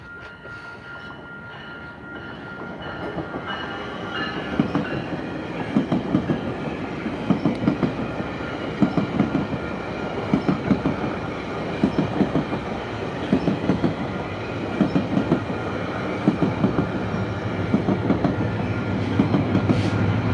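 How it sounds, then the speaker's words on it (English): A train rolls past nearby with steady rumbling and rhythmic clickety-clack of wheels over rail joints, loud throughout as the cars keep passing without a break. "We got a train coming"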